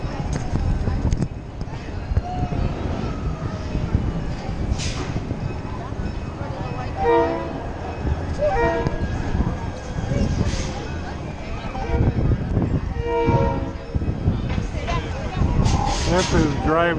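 A Big Trees railroad train led by a CF7 locomotive rolls past near a boardwalk, giving a continuous rumble with a few tonal bursts, while people talk nearby throughout.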